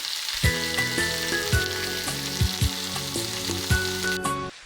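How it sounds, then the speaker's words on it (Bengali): Spices, including coriander powder, fry in a pan with onion paste and salt, giving a steady sizzle with a few sharp scrape-like knocks, under background music with no talking. "এরপর সমস্ত মশলাগুলোকে ভালো করে কষিয়ে নেব"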